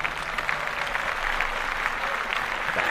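Clapping during a podcast recording, a sustained patter of hands from a small group, moderately loud and continuous, with some voices mixed faintly underneath.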